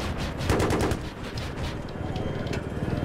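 Rapid automatic gunfire in Battlefield 3, a burst of fast repeated shots that is loud and close at first, then fades into a lower, rattling volley.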